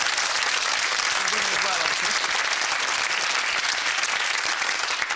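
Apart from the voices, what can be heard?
audience applause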